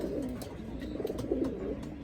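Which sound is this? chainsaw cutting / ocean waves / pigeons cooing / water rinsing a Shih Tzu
pigeons cooing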